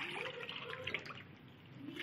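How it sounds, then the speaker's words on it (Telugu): Water pours into a pot of ridge gourd dal in a home kitchen, a faint steady trickling splash lasting about two seconds with no speech. "దీంట్లోకి 3 గ్లాసులు నీళ్ళు పోసుకోవాలి."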